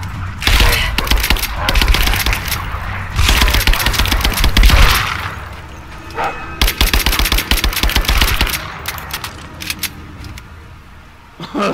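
Rapid bursts of rifle gunfire in the video game Rise of the Tomb Raider, loud and close, firing in quick strings of shots with brief pauses between volleys.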